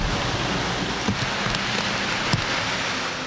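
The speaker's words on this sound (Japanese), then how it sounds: "鲗鱼涌英皇道附近有水不断从山涧涌出，" Water gushes from a hillside stream near King's Road in Quarry Bay, Hong Kong, and flows down a pedestrian staircase onto the road during flooding, a loud steady rushing wash that fills the scene.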